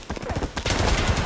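Automatic gunfire in Escape from Tarkov gameplay: a rapid burst of loud, close shots packed into about a second.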